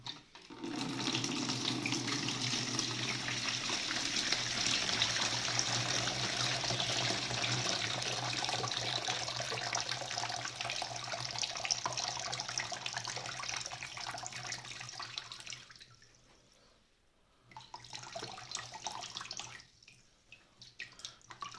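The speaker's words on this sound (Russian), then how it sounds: "Я беру это все дело сливать и смотрим." Soda solution drained from a car battery during a restoration pours steadily as a loud, continuous liquid stream for about 16 seconds, then briefly stops and resumes more weakly.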